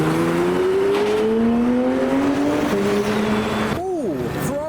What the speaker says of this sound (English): Ferrari 812 GTS